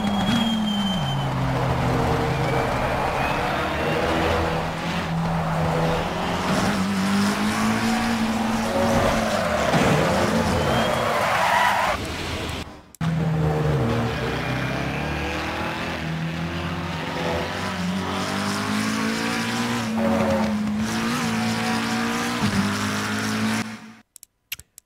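Race car in the game Assetto Corsa Competizione held at full throttle, engine screaming loud and close with rising and falling pitch through gear changes, a brief cut around the middle, then continuing before stopping abruptly.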